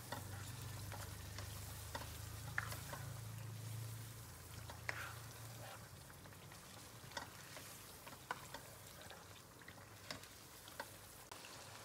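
Balochi chicken karahi frying with masala in a pan over a medium-low flame gives a soft, steady sizzle, broken by light clicks of stirring.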